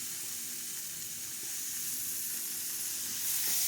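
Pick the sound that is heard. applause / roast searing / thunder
roast searing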